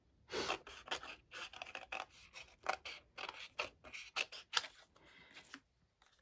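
Scissors snip through paper in a quick irregular series of crisp cuts, close and fairly quiet, with no voices.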